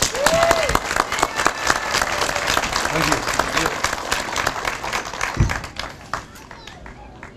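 Applause from a crowd at a Veterans Day ceremony honoring a veteran: sustained, dense clapping that gradually thins out, with a voice briefly speaking near the end.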